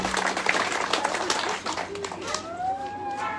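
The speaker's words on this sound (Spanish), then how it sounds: "Brindémosles fuerte aplauso." An audience claps steadily at the inauguration of new classrooms at a primary school in Colonia El Dorado, Tlapa, Guerrero, a dense crackle of applause that continues with voices mixed in.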